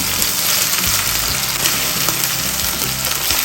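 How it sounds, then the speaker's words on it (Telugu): Onion and a tablespoon of ginger garlic paste fry in a pan for mushroom dum biryani, giving a continuous crackling sizzle with soft scraping from stirring throughout. "1 టేబుల్ స్పూన్ అల్లం వెల్లుల్లి పేస్ట్ యాడ్ చేసుకొని పచ్చివాసన పోయేంత వరకు కలుపుకుంటూ ఫ్రై చేసుకోవాలి"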